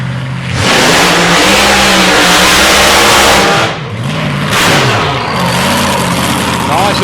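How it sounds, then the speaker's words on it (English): A loud, raw supercharged 365 cubic inch small-block Chevrolet race car engine roars and revs up and down close by during qualifying at South Coast Raceway, dropping briefly before surging again, with a voice speaking over it. "just makes so much noise coming out of a small block blown engine"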